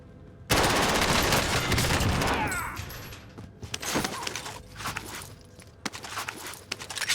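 Gunfight in Call of Duty Warzone: a loud sustained burst of automatic fire up close, followed by scattered shots, footsteps and shuffling movement.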